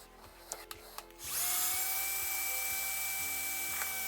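Electric screwdriver backing out 2.5 mm hex screws on an Arrma Granite 3s RC truck, a few light clicks followed by a steady, loud, close whirring motor drone that holds for several seconds.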